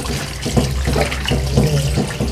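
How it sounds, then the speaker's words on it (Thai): Running water splashes steadily as tilapia fish are rinsed in a bowl to wash off tapioca starch, a loud continuous gush with soft sloshing pulses, up close and without speech. "แล้วก็ล้างน้ำแป้งมันออกได้เลยค่ะ ล้างน้ำประมาณ 3 น้ำนะคะ"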